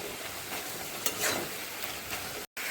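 Malabar spinach and potato curry sizzles loudly in a pan as a little water goes in, a dense close hiss with a brief stirring scrape partway through.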